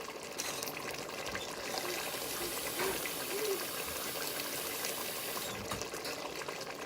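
Water from a glass is poured into a pan of kala chana salan, a steady splashing gush lasting several seconds, moderately quiet and close, with no talking.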